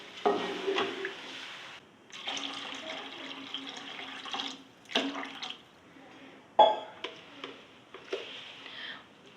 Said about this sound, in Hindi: और मैंने 2 गिलास इसमें पानी डालना है।